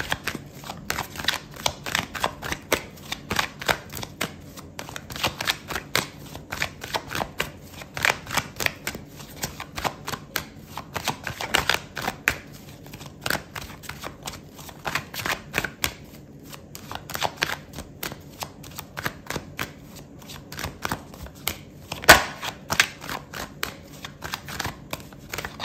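Tarot cards being shuffled by hand, a dense run of rapid riffling flicks and slaps that continues steadily for the whole stretch, close and fairly loud with no talking.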